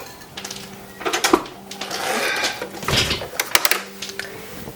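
A sewing machine stitches the hem of a 1930s–1940s style toddler wrapper in short mechanical bursts, its rapid needle clatter starting and stopping with brief pauses between runs.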